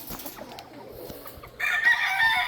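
Chickens in a backyard flock, with scattered clucks and scratching before a rooster cuts in with a loud, close, drawn-out crow.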